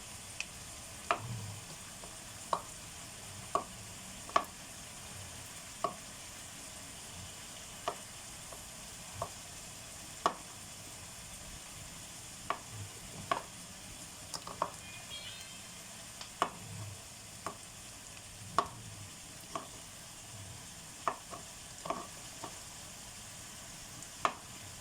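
Mushrooms fry with onions and butter in a pan, a soft continuous sizzle broken by regular sharp taps and scrapes of a utensil stirring against the pan, close and fairly quiet.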